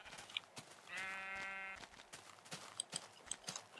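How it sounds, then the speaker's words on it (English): A Minecraft sheep bleats once in a clear, drawn-out wavering call, set among scattered game clicks and footstep-like taps. "Since there are some sheep right here."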